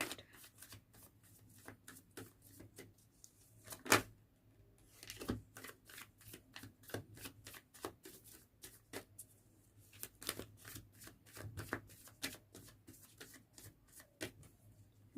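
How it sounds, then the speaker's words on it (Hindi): A deck of tarot cards is shuffled by hand, a long run of quick, soft, papery riffles and flicks repeating close by, quiet and steady, with no speech. "Last shuffle."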